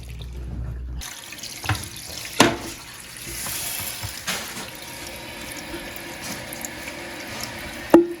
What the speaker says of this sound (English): Water's coming on.